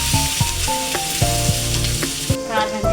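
A Konaseema-style fresh anchovy curry with turmeric and spices sizzles loudly in a pan, stirred with repeated scraping knocks of a spoon against the pan over a constant close frying hiss and a steady low hum.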